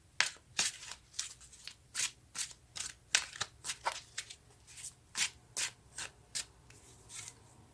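Tarot cards shuffled by hand in a steady series of about fifteen crisp riffling bursts, close and fairly quiet, with no talking.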